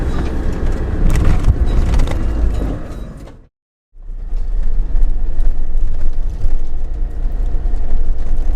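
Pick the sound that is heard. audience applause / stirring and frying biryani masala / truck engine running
truck engine running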